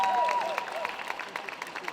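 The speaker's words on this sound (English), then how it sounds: "Let's give them a huge round of applause" Audience clapping at a Lumbee cultural presentation honoring elders, a steady spread of hand claps from a crowd at moderate distance, with a voice briefly carrying over the start.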